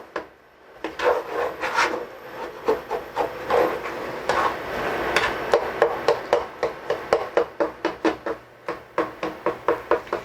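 A wide utensil scrapes rhythmically across a pan while mock rice for a chicken-flavored Rice-A-Roni dish cooks, giving loud, close, repeated rasping strokes that speed up into quick, regular scrapes toward the end, with no talking.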